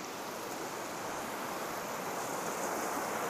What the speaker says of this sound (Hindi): और ये है पीछे से नदी